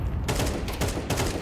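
Rapid bursts of gunfire from a Counter-Strike match on the Anubis map, loud and close, with repeated volleys packed across the moment and no pause between them.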